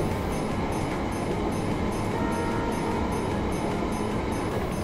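A JR Hokkaido one-man electric train runs along the Chitose Line near New Chitose Airport, giving a loud, steady, close rumble of wheels and motors with faint regular rail clicks throughout.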